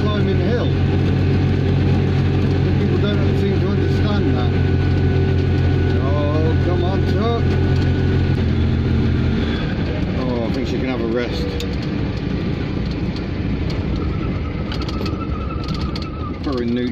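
An Invacar's small engine drones loudly as it climbs a steep hill, a steady low hum with harmonics that shifts pitch midway, while someone talks over it.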